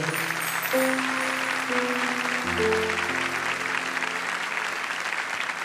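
An audience at a business talk gives steady, sustained applause. Many hands clap in a dense wash while sustained music tones play underneath.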